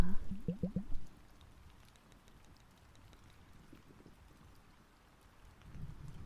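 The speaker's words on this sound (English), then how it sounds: "let me make sure the rain sounds are on loop" Looped rain sound effect makes a faint, steady hiss of falling rain that runs throughout, with a brief voice heard near the start.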